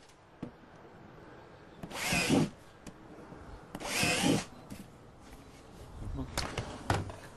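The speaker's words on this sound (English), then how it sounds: "it's much easier if you just drill the 4 holes in each of the corners" Three short bursts of a power drill whirring as it drills holes in the corners of a plastic planter container, each lasting about half a second, separated by pauses with faint background noise.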